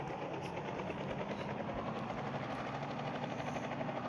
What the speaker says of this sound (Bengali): একটু ভালো করে হেলিকপ্টার চালাই।